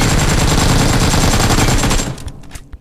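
Gunfire in BGMI (PUBG Mobile) roars in a loud, dense burst of rapid automatic shots, then cuts off abruptly and leaves a few scattered fainter pops and a quieter tail.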